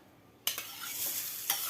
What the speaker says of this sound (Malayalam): ഗ്യാസ് ഓൺ ചെയ്ത് കടായി വെച്ച് 1 ടേബിൾ സ്പൂൺ ഓയിൽ ഒഴിച്ച്